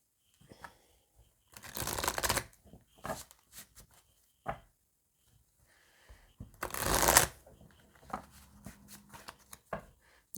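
Oracle cards are shuffled by hand in a few brisk bursts, a crisp riffling flutter close to the listener, separated by quiet pauses and small handling taps.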